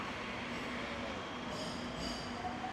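Steady rumble and rattle of a Shanghai metro train in motion on a roughly 15-minute ride, with faint wheel squeal and hum continuous throughout, close and even, no voices.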